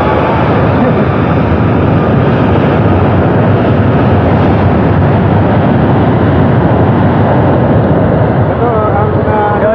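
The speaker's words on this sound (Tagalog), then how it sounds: "habang papatake off yung aeroplano" Jet airplane taking off nearby, a loud, continuous roaring rumble that fills the whole stretch, with talk mixed in beneath the engine noise.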